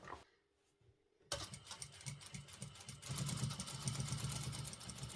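A sewing machine starts up after a quiet moment and stitches jeans at the waist with a steady rapid chatter that grows louder and denser toward the end, close by, with no talk.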